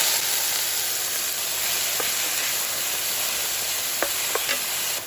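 Vegetables sizzle steadily in a hot pan for shrimp asopao, a loud continuous hiss that fills the whole stretch, with a few faint stirring clicks and no talking.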